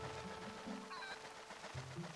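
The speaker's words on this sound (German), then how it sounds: "Scheiß Huhn." A chicken in the video game Zelda: Twilight Princess HD gives a few short, throaty clucks, close and fairly quiet, over steady game background sound.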